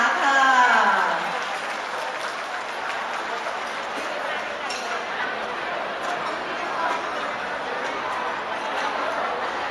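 Thai wedding guests clap to welcome the groom's parents, sustained applause from a sizeable crowd after a brief voice at the start, holding steady with faint chatter mixed in.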